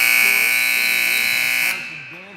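A loud, steady electronic buzzer sounds at a boys' varsity basketball game in Manton, holding for nearly two seconds before cutting off abruptly, with crowd noise and voices beneath it and a commentator's voice continuing afterward.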